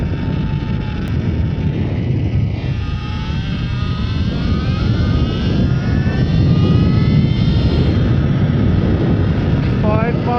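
An electric motorbike accelerates on a cold road, its motor whine rising in pitch over a loud, steady rush of wind noise, with a voice talking over it.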